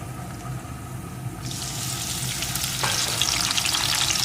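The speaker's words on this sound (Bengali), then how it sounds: "আলুর টুকরোগুলো সুন্দর করে ভেজে নিয়ে এর ভিতরে দিয়ে দেবো একটা টমেটো কুচি" Potato pieces sizzle in a pan with a low steady hiss that jumps louder and brighter as chopped tomato goes in, then keeps frying briskly up close, no one speaking.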